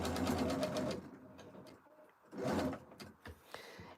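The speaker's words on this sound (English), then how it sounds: "now we're going to sew up to this corner." Sewing machine stitching lace, two bursts of rapid mechanical stitching about a second long separated by a pause with small clicks and handling sounds, close and clear.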